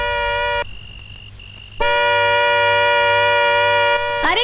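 A car horn blares loudly in long, sustained honks, cutting off briefly before sounding again steadily for a few seconds, close by with no talk.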